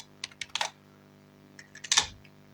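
Keystrokes on a computer keyboard while entering text into an HTML file, a quick cluster of clicks followed by a pause and a second short burst of taps, close and fairly quiet.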